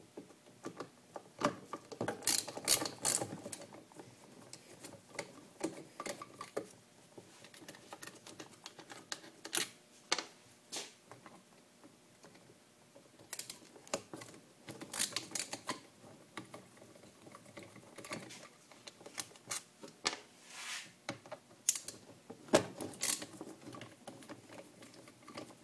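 A ratcheting screwdriver working a screw, giving quiet bursts of fast clicking that come and go in short runs, close by and without any speech.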